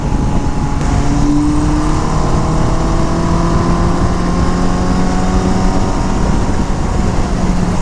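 Kawasaki KZ1000 motorcycle engine while riding, a loud, continuous drone with steady rumble and whining pitch shifts as it accelerates, with heavy wind noise and no speech.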